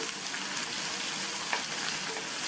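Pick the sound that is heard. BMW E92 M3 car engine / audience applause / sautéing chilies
sautéing chilies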